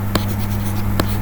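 Chalk or pen scratches out math on a board or paper in two short, close, distinct strokes over a steady background hum.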